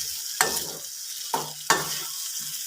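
Potato masala curry being stirred in a frying pan, with three distinct scraping stirs over a steady close sizzle of frying.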